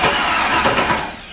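Starter cranking the engine of an LS-swapped Datsun 280Z for the first time after storage, one loud, close, continuous burst of about a second with no talk.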